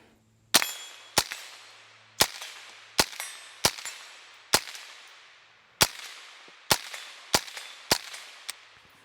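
Rifle shots from a Tippmann M4 chambered in .22 Magnum, cycling Federal Punch 45-grain rounds: about a dozen sharp, loud cracks at a steady semi-auto rhythm, each with a short decaying echo, no talk.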